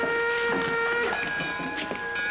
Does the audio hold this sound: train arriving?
yes